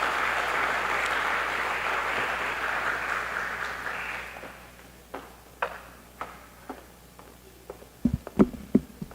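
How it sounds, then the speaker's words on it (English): Audience applause welcoming the High Commissioner of India at an Indian Arrival Day celebration, a dense clapping wash that fades after about four seconds, leaving scattered isolated claps and small knocks. "Please welcome him with a lusty round of applause."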